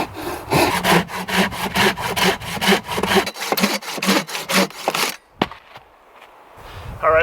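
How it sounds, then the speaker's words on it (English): A Silky hand saw cuts through tree limbs at a snowy winter campsite, making about a dozen quick, rhythmic rasping push-pull strokes close by. The strokes stop, leaving a few faint knocks and then quiet. "I got out my silky saw and I'm going to trim back a few of these limbs"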